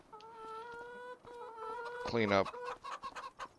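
Chickens cluck in Farming Simulator 25 on the Zielonka farm, a few drawn-out tonal calls followed by a louder burst of squawking, while someone briefly talks.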